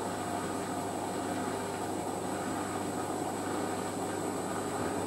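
Hotpoint WD640G Aquarius+ washing machine ramping up toward spin on a 95ºC white cotton wash, a steady quiet whirring hum with a low drone and faint even rumble throughout.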